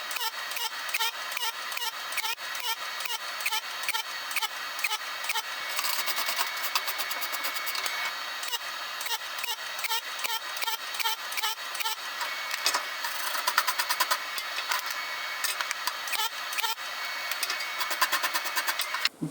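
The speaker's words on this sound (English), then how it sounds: "I'm going to MIG it, and I know I'm going to have to like pulse this" Pulsed MIG welding on an aluminum bottle bracket for a mobile welding cart makes a rapid, even crackling buzz, close and continuous, with brief pauses between runs.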